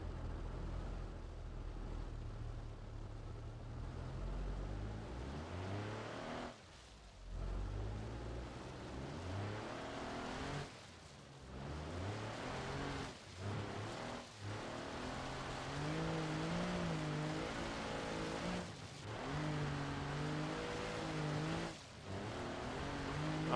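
A tiny Kei truck fitted with a small-block engine revs in a driving game, a steady low engine drone with rising and falling pitch, interrupted by several brief drops as the throttle lifts.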